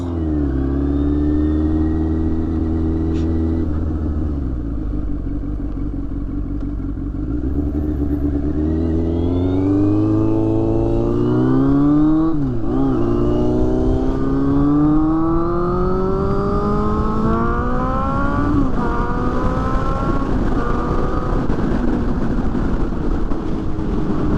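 A 2001 Yamaha FZS 600 café racer motorcycle with a four-outlet exhaust revs steadily and loudly, its engine note rising and falling through several throttle blips with no talk over it.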